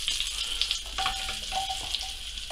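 Carrots frying in a pan with caramelised bits for a hare stew, a steady bright sizzle with small pops and crackles, close and continuous, no talking.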